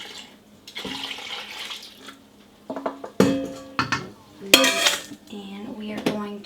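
Banana pudding ingredients are stirred together in a bowl, with spoon and utensil clinks against the dish coming in irregular bursts, close and fairly loud, with quieter scraping between them.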